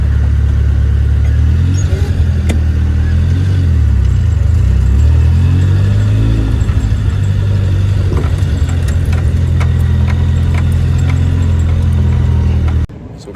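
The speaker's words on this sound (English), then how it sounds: "you wonder what's the car sound behind, it's my car" A Toyota KE70 with a 4AGE 20V engine idles loudly up close, a deep steady rumble with rising and falling revs before cutting off near the end.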